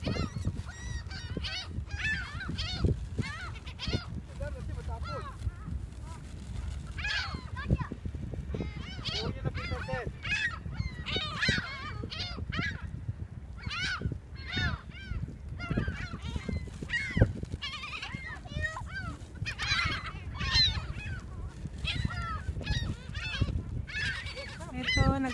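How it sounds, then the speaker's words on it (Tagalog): Seagulls being fed at Point Park call repeatedly in a noisy, honking flock close by, their cries overlapping throughout while people talk over them. "Ito, nagpapakain kami ng seagulls."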